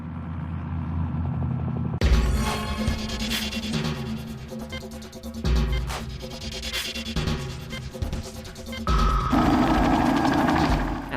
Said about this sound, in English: And some stock footage of a helicopter.